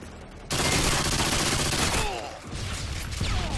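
An M4 rifle in the Call of Duty Modern Warfare 2 video game fires in loud, rapid automatic bursts that open abruptly and keep going to the end.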